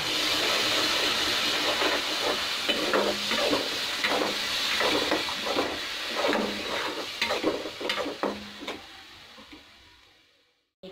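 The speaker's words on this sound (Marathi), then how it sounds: "आपण जी टोमॅटो प्युरी केली आहे दोन टोमॅटोची ते ॲड करणार आहे मी आता." Tomato puree made from two tomatoes goes into a hot pan for a soybean veg chicken curry, giving a steady sizzling hiss with scattered stirring scrapes and clicks before it fades out.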